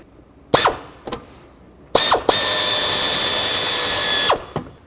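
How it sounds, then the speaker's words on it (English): A ratchet with a 10mm socket works a nut on a 2003-2021 Chevy Express 3500, giving a few loud, close clicks and then a longer, harsh mechanical burst lasting about two seconds before a last click. "Drop a 10mm socket on there and then try to break it free."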